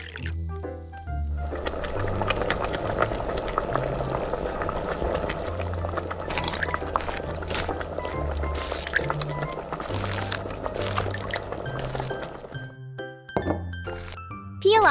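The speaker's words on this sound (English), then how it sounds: "Let's boil the tomatoes!" Water boiling in a small pot with tomatoes, a busy bubbling simmer with soft thunks and clinks, a low hum underneath and brief other sounds near the end.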